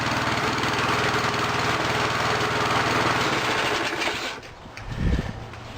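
A small push lawn mower engine runs loud and close with a fast, buzzing drone, then cuts off and sputters briefly near the end.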